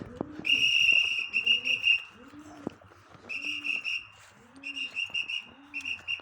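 A racing pigeon at the loft during a 200 km race coos in a string of soft, rolling low calls, close by, interleaved with repeated high, thin electronic-sounding beeps.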